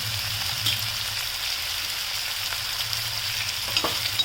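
Green chillies and capsicum sizzling in an oil-filled pan for dhaba-style paneer bhurji, a steady close crackling fry with a few soft stirring scrapes near the end and no talking.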